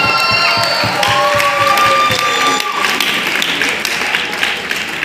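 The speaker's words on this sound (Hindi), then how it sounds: "एक बार जोरदार हाथ ताली होना चाहिए।" A large indoor audience claps and cheers loudly at a presentation, with dense sustained applause, scattered shouts and a speaking voice over the crowd.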